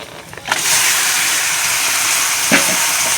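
Chicken meat hitting hot spiced oil in a pan, a sudden loud sizzle that settles into a steady, close frying hiss with a brief clatter partway through.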